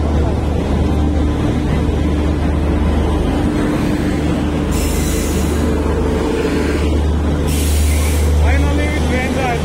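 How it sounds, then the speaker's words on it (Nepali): A train arrives at the NJP railway station with a loud, steady, low rumble and hiss, brief high-pitched squeals and brake releases, and people talking over it. "बल्ल आइपुग्यो ट्रेन हाम्रो"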